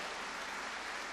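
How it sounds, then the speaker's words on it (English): Audience applause at a seniors' gala cabaret in a hall, a dense steady wash of clapping held at even loudness for about a second with no voices over it. "A big round of applause."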